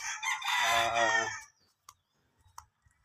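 A rooster crows loudly and close on a farm, one long call, followed by a few faint clucks and clicks from chickens.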